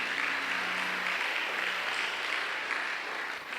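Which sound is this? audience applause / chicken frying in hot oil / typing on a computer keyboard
audience applause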